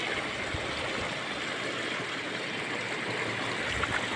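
Floodwater rushes through a village stream at Daraguda, a steady, dense wash of flowing water that holds at an even, fairly loud level throughout with no voices.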